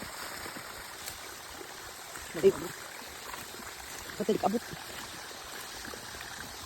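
A stream flows with a steady, faint trickling rush in the background, and a couple of short spoken exclamations break in over it.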